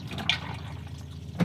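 A motorhome toilet flushes, water rushing and swirling into the bowl in a steady close wash with a brief clunk at the end, no voices.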